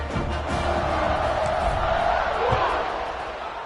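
A packed football stadium crowd roars in a sustained, loud wall of cheering and yelling that swells and holds for several seconds before easing slightly, with a few sharp thuds beneath.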